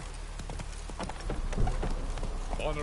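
Hooves of Roach, Geralt's horse in Witcher 3 Wild Hunt, clip-clop in a steady galloping rhythm at moderate level, with faint game sounds and a brief voice underneath.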